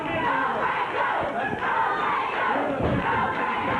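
Wrestling arena crowd during a tag-team match with Brad Armstrong and Tim Horner, roaring and cheering steadily throughout, loud and dense with no pauses.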